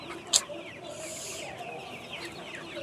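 Chickens on a small poultry farm in rural Bangladesh cluck softly in the background, with one sharper call standing out near the start over a low, steady barn ambience.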